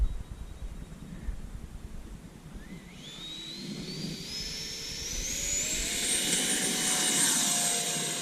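A Freewing A-4E/F Skyhawk 80mm EDF RC jet spools up and takes off, its electric ducted fan rising from a quiet hiss into a loud, climbing whine that swells and stays strong as it departs.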